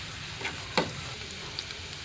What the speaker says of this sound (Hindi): घी में प्याज डाल के हम इसे हल्का सा नरम करेंगे, सॉफ्ट करेंगे इसे।